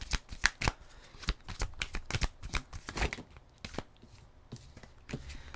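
A deck of tarot cards being shuffled during a reading, with repeated riffling and flicking bursts in an uneven rhythm, close and fairly loud with no talking.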